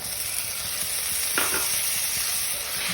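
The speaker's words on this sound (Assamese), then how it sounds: "নেমুৰ ৰসখিনি দি আমি অলপ লৰাই দিছোঁ" Loud, close sizzling of vegetables frying in a pan just after lemon juice is added, with a brief scrape of stirring partway through and no speech.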